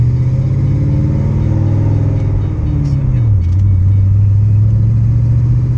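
A supercharged Ford Mustang GT S197 with a 4.6L three-valve V8, Edelbrock supercharger and 80-pound injectors drones loudly up close, its engine pitch sliding down midway and then holding steady.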